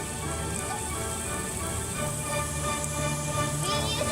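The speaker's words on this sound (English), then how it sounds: "Or a raining machine? But some of the water is coming out of that." Water sprays and patters steadily from a homemade PVC pipe rain machine for kids, a constant close hiss of falling droplets with no pauses.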